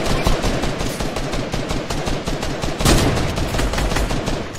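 Gunfire crackles through a Fortnite arena match in quick, dense bursts of sharp shots, loud and close, with a heavier cluster of reports partway through.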